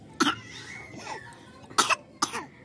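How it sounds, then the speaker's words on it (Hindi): A baby coughing, three short sharp coughs spaced over a couple of seconds, each with a brief wheezy tail, close to the mic over faint room noise. "ओ नो खांसी आने लगी बेबी को"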